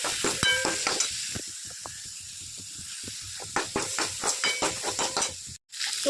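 Spices with ground coriander powder and chili sizzling in a hot pan, a steady crackling fry with irregular bursts of sputtering and a brief pause near the end, close and fairly loud with no talk.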